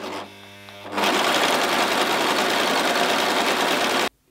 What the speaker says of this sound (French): C'est toujours mieux si on allume la machine.